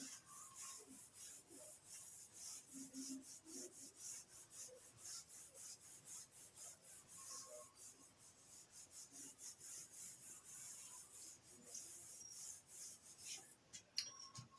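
Steady rubbing and rasping of an eraser or duster wiping writing off a board, continuous strokes over about fifteen seconds, fairly close and quiet, with no talking.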